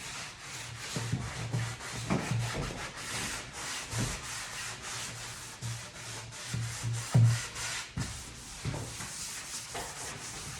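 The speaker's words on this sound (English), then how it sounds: "You can see we're just taking a little bit of the dust off." A cloth or pad rubs dust off a stained wooden door on an 1884 house, repeated scuffing strokes in an uneven rhythm, close and fairly soft.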